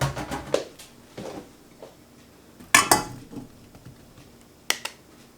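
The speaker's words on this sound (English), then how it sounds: "you're going to put them into your pan. Being careful not to spill them" Cut strawberries tumble into a pan for strawberry jam: a few sharp clinks and soft thuds, with two louder impacts near the middle and end, close and otherwise quiet.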